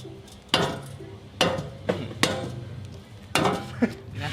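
A bearing is hammered into an electric scooter frame, with about half a dozen sharp metallic strikes coming at irregular intervals, close and loud against a quiet workshop background.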